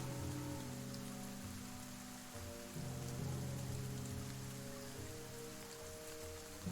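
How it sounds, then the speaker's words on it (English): Steady rain falling in the video game The Banner Saga 2, a soft continuous patter over a low sustained ambient musical drone, quiet and without voices. "Just take a second for that rain sound."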